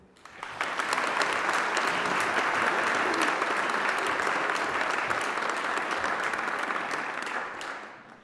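A graduation ceremony audience breaks into sustained applause, a dense wash of clapping from a large crowd that swells quickly, holds steady for several seconds and fades out at the end.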